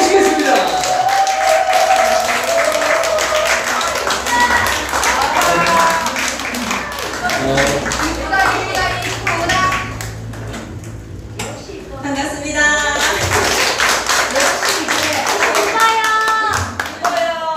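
An audience claps to welcome an instructor giving a debut lecture, a dense patter of hands with scattered cheers and voices mixed in, loud and close throughout.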